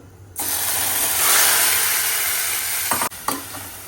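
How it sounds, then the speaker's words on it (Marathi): Marinated mutton kheema in a little oil in a kadhai gives a loud, close, steady sizzle that bursts up as it hits the pan, followed by a couple of scraping stirs near the end. "याच कढईमध्ये थोडंसं तेल घातलं आहे आणि हे मॅरिनेट केलेला खिमा घालते"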